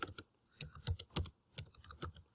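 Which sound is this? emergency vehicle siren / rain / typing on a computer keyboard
typing on a computer keyboard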